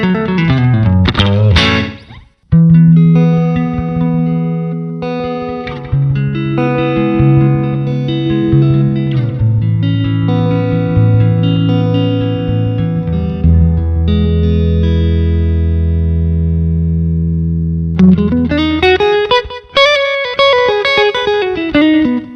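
Guitar played through a DIY reverb and delay pedal built from a cheap board, sustained chords and single notes washing into long echoing tails, loud and continuous with a brief break near the start and no talking.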